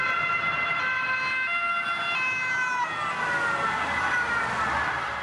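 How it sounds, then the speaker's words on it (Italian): Police patrol car sirens wailing during a chase, several overlapping tones sliding up and down, loud and steady over road noise for several seconds. "le pattuglie si lanciano all'inseguimento a sirene spiegate"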